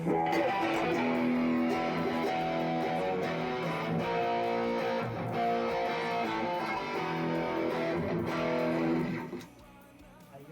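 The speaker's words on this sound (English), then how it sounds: "it's a really good distortion pedal" An electric guitar runs through a distortion pedal for a dark tone, playing a thick, sustained, loud part without a break before cutting off sharply near the end.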